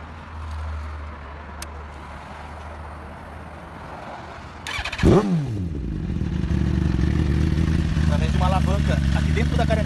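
A motorcycle engine idles with a low rumble, then revs and keeps running louder, with a mechanical clatter and a whine partway through.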